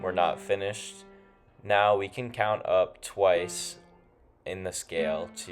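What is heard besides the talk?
No distinct noise like a dog, phone or traffic.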